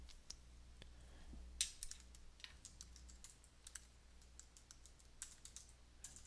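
A patient's prescription typed on a computer keyboard, with quiet, close, irregular key clicks in short bursts over a low steady hum.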